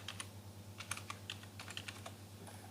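Light, quick tapping of keys while a user ID is typed on a passport website, faint and close, an uneven run of clicks over a low hum.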